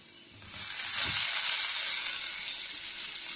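Loud, steady sizzling as onions fry in a hot pan, swelling up after a quieter start and holding constant.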